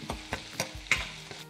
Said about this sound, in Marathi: लसूण हा सोनेरी रंगावर परतून घ्यायचा आहे. हिरवी मिरची आणि हे एकत्र छान परतून घेऊया.